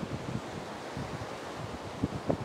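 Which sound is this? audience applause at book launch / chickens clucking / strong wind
strong wind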